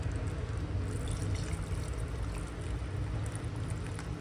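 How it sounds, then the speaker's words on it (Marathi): Hot water poured into mutton cooking in a pan, a steady broad wash of liquid splashing and sizzling that runs loud and continuous throughout, with no talking. "तर ह्याच्यामध्ये आपण गरम पाणी सोडूया."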